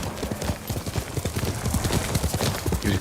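Horse hooves clip-clop steadily in Ghost of Tsushima, a close, fairly loud run of rapid footfalls under a dense ambient background, with Yuriko's horse nearby.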